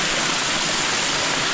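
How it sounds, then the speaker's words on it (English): Water bubbling up and spilling over the top of a micro hydro intake pipe, a steady close rushing wash with no talk. "There's a little bit still bubbling out here and coming out over the top here."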